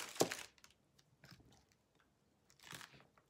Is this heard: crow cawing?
no